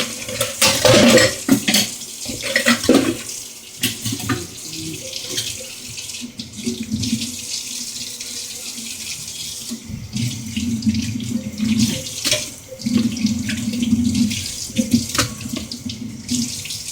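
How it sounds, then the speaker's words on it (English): A kitchen tap runs into a sink while a knife is rinsed, water splashing loudly at close range with clinks of metal and dishes, the flow changing as the blade moves under it. "I'm washing this knife."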